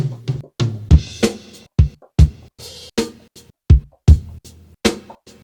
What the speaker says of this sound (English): And then they've just been chopped up and sound like this.